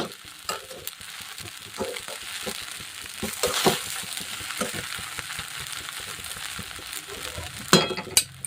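A spoon stirs kande pohe with coriander and lemon juice in a hot pan, producing steady scraping and soft clinks over a continuous sizzle, close and moderately loud, with a sharper scrape near the end.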